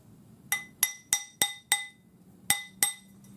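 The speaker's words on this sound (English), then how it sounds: "I'm just hammering my ring to the point that I'd marked earlier" A small metal spiral ring is hammered on a hard surface, giving seven bright, ringing metallic taps: five evenly spaced, then a short pause and two more.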